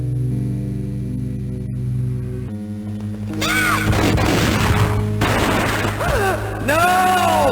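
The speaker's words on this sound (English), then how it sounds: "A gunshot boomed and she fell down in slow motion." A gunshot booms in the Game Boy Advance Max Payne game, a loud blast followed by crashing impact sounds over steady game music, with further bursts and ringing effects.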